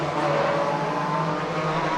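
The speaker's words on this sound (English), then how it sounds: "Classic hot rod racing from the National Hot Rods here at Hednesford Hills Raceway." National Hot Rod race cars racing at Hednesford Hills Raceway in 2008, a steady, loud engine drone with no break, no voices.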